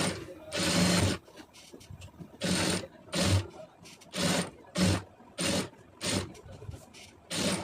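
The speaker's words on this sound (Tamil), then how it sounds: "அது கரெக்டாக அந்த கேப்லேயே உங்களுக்கு தையல் போட்டு காமிக்கிறேன் எவ்வளோ நீட்டாக வருதுன்னு" A sewing machine stitches thread piping onto fabric in short, loud bursts of rapid mechanical whirring, separated by quiet pauses, close and clear with no talking.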